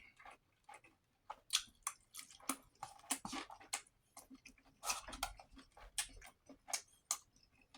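Close, wet chewing of steak with rice and beans, a steady run of irregular bites and mouth clicks for several seconds, with no talking.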